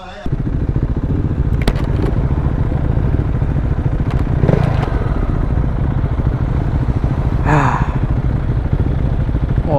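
KTM 690 Duke R single-cylinder motorcycle fitted with a full Akrapovic exhaust system, idling and chugging loudly up close with a steady pulsing beat, a few sharp blips and people talking and exclaiming over it.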